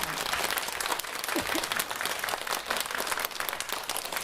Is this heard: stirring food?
no